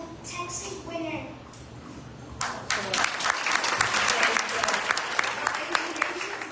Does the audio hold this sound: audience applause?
yes